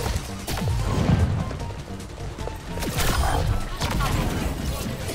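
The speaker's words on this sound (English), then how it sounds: "Why are they shooting so fast?" Rapid gunfire in a video game: dense, overlapping bursts of shots and sharp cracks throughout, with a voice talking underneath.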